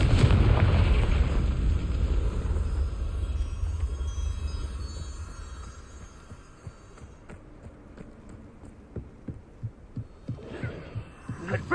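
Confringo fire spell explosion in Hogwarts Legacy combat: a loud, deep rumbling blast that swells and slowly fades over several seconds, then gives way to a run of soft, low rhythmic thumps.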